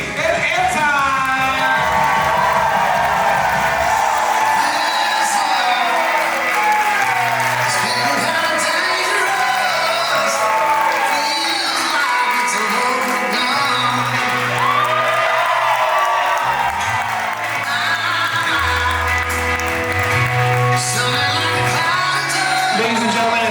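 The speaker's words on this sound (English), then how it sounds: "Put your hands together and raise your voices for the reason that we're here tonight." Wedding guests cheer, whoop and shout at a reception in an elegant venue in Columbus, Ohio, a loud crowd roar that holds steady throughout, with scattered clapping and music under the noise.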